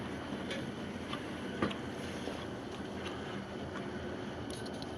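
The electric motor of a 1925 Logan lathe running with its belts removed, a steady low hum with a constant broadband whir and a few faint clicks, close and unchanging for several seconds.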